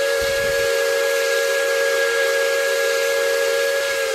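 A loud, steady American steam locomotive whistle in a video game blows continuously with a hissing edge, a sustained two-tone shriek that doesn't let up.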